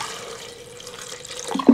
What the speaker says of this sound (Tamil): அதுக்கப்புறம் தண்ணி ஆட் பண்ணிக்கலாங்க.